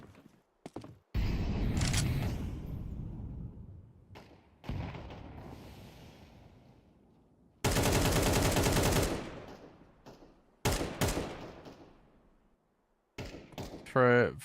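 Gunfire and thuds from a Counter-Strike gun round in a professional South American tournament match come in loud bursts with gaps between them, including one long sustained burst of rapid fire.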